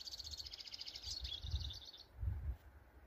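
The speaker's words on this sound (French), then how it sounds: "Regarde le petit oiseau là." A small yellow bird sings in a Patagonian national park, a rapid series of high thin chirps for about two seconds, fairly close, over low wind rumble with no talk.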